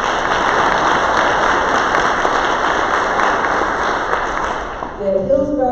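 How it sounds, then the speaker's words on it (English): Audience applause at a State of HART transit gathering honoring a woman's work on a maintenance facility project. A dense, even wash of clapping holds steady and starts to fade near the end, where a voice begins. "So let's give Beth a round of applause"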